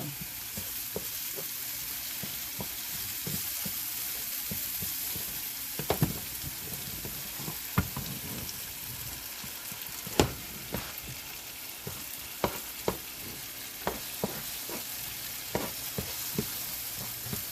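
Italian sausage with peppers and onions fries in a skillet partly off the burner, a steady low sizzle with scattered pops and occasional utensil clicks, fairly quiet and close.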